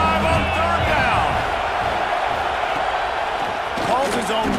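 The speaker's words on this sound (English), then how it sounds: "The Buckeye crowd alive on 3rd down" A Buckeye stadium crowd in a college football video game roars on third down, a loud, continuous wall of cheering with a voice talking over it.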